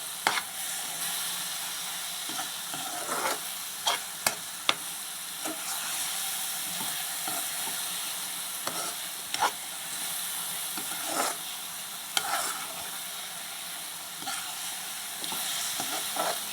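Carrot halwa made with jaggery is stirred in a pan, a steady soft sizzle and hiss broken by repeated scraping strokes of the spoon, close and alone without talk.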